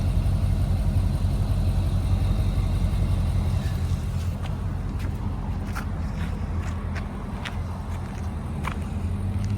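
A 2017 Nissan Titan Pro-4X pickup with an aftermarket side-exit exhaust idles with a steady low throaty rumble, close and constant, with a few faint ticks and clicks over it.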